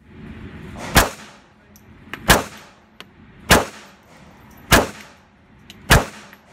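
A Remington RM380 pistol fires five sharp, loud shots at the range, evenly spaced about a second apart, each with a brief echoing tail between quieter gaps.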